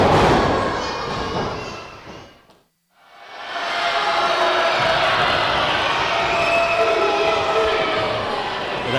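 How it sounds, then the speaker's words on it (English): A wrestling show crowd lets out a loud, sustained groan of revulsion, a broad roar that cuts off briefly to near silence, then swells back and holds through the rest. "That sound of revulsion you just heard from the crowd"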